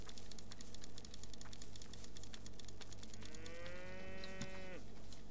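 Cow in the video game Rising World gives one long drawn-out moo in the latter half, clear but moderate over a quiet background of game ambience and faint repeated clicking.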